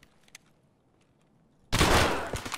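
A single loud, sharp gunshot fired through a wall in Escape From Tarkov bursts in abruptly after near-silence and rings out with a decaying tail.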